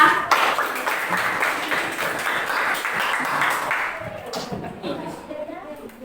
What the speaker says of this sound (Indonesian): Tepuk tangan untuk Beria.